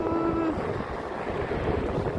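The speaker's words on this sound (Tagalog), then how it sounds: "nagsasalubong mo yung hangin" Cold wind after snowfall buffets the microphone in a low, rumbling rush that swells and eases, with no speech over it.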